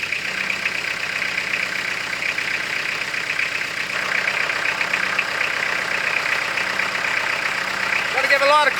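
A tractor engine idles steadily with a low, even rumble while a Hud-Son 35M forestry winch is set up to pull down a large pine tree; the idle continues unbroken throughout.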